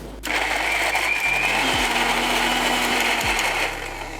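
A blender whirs loudly and steadily, grinding a thick paste of pumpkin soup ingredients, its motor pitch dipping briefly twice before it runs on and then stops.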